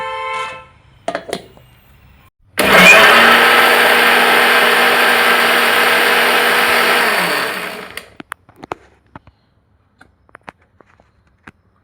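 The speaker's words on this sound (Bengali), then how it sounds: "একসঙ্গে এগুলোকে আমি মিক্সারে পেস্ট করে নেব।" Electric mixer grinder blending chillies, garam masala, peppercorns and a little water into a spice paste, a loud steady whir running for about five seconds before cutting off, followed by faint kitchen clicks and taps.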